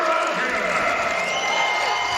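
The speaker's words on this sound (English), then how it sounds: "ovation from this crowd." Arena crowd at a college wrestling dual meet, Michigan at Purdue, applauding and cheering steadily after an 11-7 win, a continuous dense roar of clapping with no breaks.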